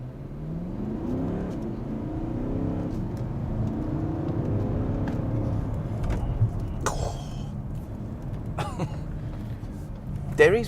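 Porsche Cayenne S Diesel pulling away under hard acceleration, a steady low engine and road drone heard from inside the cabin, rising through gears with brief clicks and faint tonal chirps near the end.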